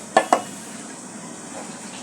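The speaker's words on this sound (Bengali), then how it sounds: "এখন আমি একটু নেড়ে ছেড়ে দেবো, আবার একটু নেড়ে ছেড়ে দিলাম।" Fried green papaya being stirred in a pan over a medium flame: two quick scraping knocks of a spatula against the pan, then a soft, steady sizzle carrying on alone.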